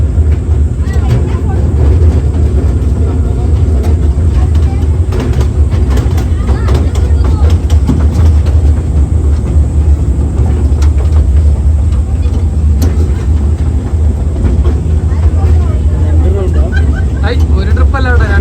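A steady low engine rumble and vehicle noise from a ride-on train at the Mysuru rail museum. It continues loud and unbroken throughout, with background chatter mixed in.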